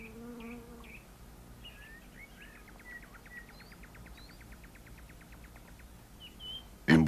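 Small flying insects buzz near a spider web outdoors, with a faint droning hum and a quick rhythmic chirping trill in the middle, plus a sudden loud knock at the very end.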